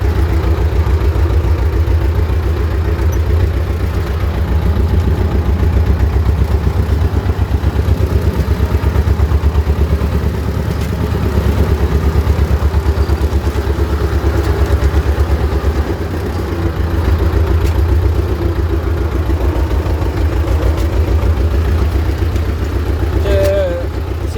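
A T16m tractor engine runs steadily while driving, a loud continuous low mechanical drone with rattling clatter throughout.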